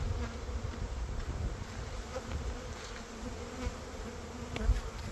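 Honeybees fly around an open hive in spring, a continuous close buzzing of many insects with faint rustling underneath and no voices.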